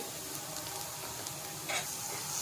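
Ginger garlic paste sizzling in a pan while soya chunk fried rice is made, a steady close hiss with faint stirring scrapes and no talk.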